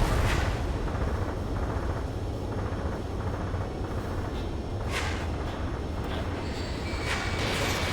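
Aircraft cannon fire rattles in rapid bursts in the combat flight game Ace Combat 7: Skies Unknown, loud over a constant roaring jet engine drone, with a few sharper blasts near the end.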